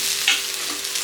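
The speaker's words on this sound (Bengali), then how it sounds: "নাড়াতে হবে এখন সুন্দর করে" Boiled chowmein is stirred in a small kadai while it fries, giving a brief close sizzle with a quick scrape of the spatula near the start.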